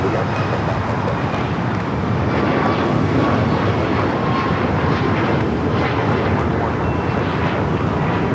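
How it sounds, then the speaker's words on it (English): A United Boeing 737 MAX 9 climbs out of LAX toward Denver, its jet roar a broad, steady, loud rumble filling the whole stretch with faint traffic noise beneath. "United flight that just took off, heading to Denver, flight 2610"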